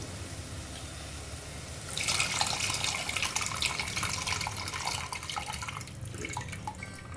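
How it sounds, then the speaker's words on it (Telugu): Water is poured into a simmering egg and onion curry, starting as a steady bright splashing stream that carries on for several seconds over a constant low background hum. "నేను దీంట్లోకి కొన్ని నీళ్ళు యాడ్ చేసుకుంటున్నాను ఇంకా"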